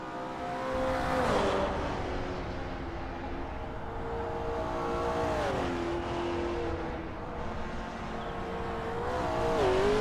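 Race cars in a 1000cc Dwarf Cup race on a circuit, engines revving hard and shifting through gears with a steady roar, tyres humming on the road, loud and continuous with pitch rising and dropping.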